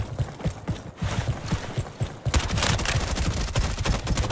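MP5 submachine gun fire in the Roblox shooter Frontlines: rapid automatic bursts crackle close by, sparse and stuttering at first, then a dense sustained stream of shots.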